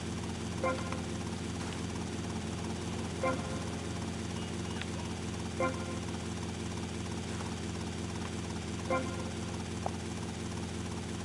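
An RC helicopter in GTA Vice City whirs with a continuous buzzing rotor drone, broken by faint periodic blips every few seconds, steady and moderately loud throughout.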